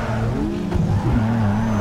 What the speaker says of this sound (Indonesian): Lah ini kalau drift di jalanan coy